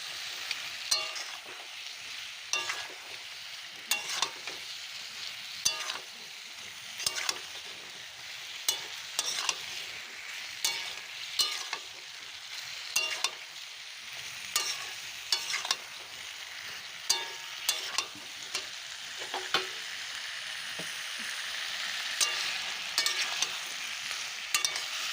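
Bottle gourd frying in a pan for a fish curry, a soft, fairly quiet sizzle with regular scraping and tapping strokes of a spatula stirring it through, no voices heard.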